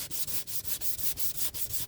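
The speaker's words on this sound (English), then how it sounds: "I've got 600 grit sandpaper on this." Rapid back-and-forth sanding with 600 grit sandpaper on a crafted surface, about nine quick rhythmic rasping strokes, close and soft, with no talking.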